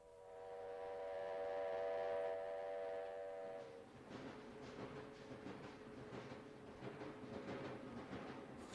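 A train's sustained horn tone, then the rhythmic rattle and clatter of rolling rail cars, heard fairly faintly with no talking.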